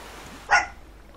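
A single sharp dog bark in the Far Cry video game, one loud burst standing alone against a quiet background.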